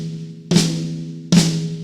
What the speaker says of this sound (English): your flam should sound like this